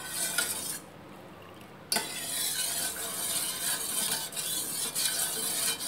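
Spoon stirring a jelly mixture of dissolved china grass and added milk in a metal pot, making a continuous scraping and swishing with light clinks of utensil on metal, briefly pausing before resuming.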